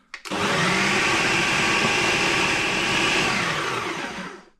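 An electric mixer kneading seeded bread dough, a loud steady motor whir that starts abruptly, holds at an even pitch and tapers off at the end, with no talking.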